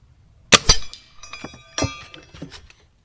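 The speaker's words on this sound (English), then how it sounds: "I'm enjoying this air rifle quite a bit" Trail XL air rifle fired at targets 50 yards out: a sharp crack near the half-second mark, then a second, weaker report later on, with faint clinks and rattles in the quiet between them.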